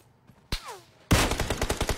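Gunfire in a video game: a single sharp, heavy shot rings out, and moments later a loud burst of rapid, repeated automatic fire follows close by.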